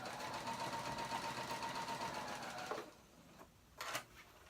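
A sewing machine runs steadily for nearly three seconds, basting a garment sleeve with a long stitch, then stops; a few brief clicks and shuffles follow in the quiet.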